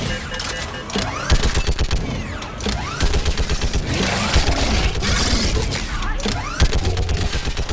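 Gunfire rattles through a Mass Effect video game battle, dense bursts of automatic fire and booming impacts layered with shouted voices, loud and continuous throughout.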